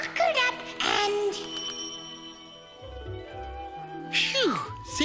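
A bicycle-style bell rings out in a cartoon scene, a bright metallic ding standing clear over music and childlike voices, then returning briefly near the end amid more chatter.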